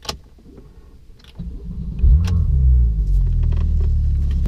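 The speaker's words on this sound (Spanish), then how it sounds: "Ahora vamos a ver qué tal es manejar el 911 Turbo S." A Porsche 911 Turbo S engine rises into a steady, deep rumble as the car gets underway, loud and close from inside the cabin, with a few light clicks early on.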